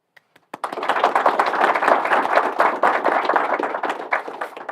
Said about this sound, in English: We'll give them a round of applause in case they watch later